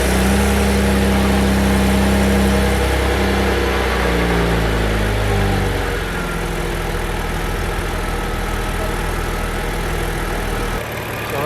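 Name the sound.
car engine idling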